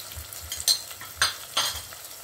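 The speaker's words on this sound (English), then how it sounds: "So guys, I'll let it fry in low heat" A sour herbs dhal mixture with garlic and black pepper fries on low heat in a pan while being stirred, with a steady soft sizzle broken by three crisp scraping strokes of a utensil, close and without voices.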